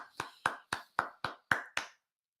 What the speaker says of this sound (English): let's not only give them a round of applause, because a round of applause is in order right now